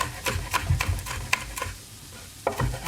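Bacon frying crispy in a pan while clams with bacon and parsley are prepared, giving a soft close crackle and sizzle with intermittent stirring and scraping bursts, no talk.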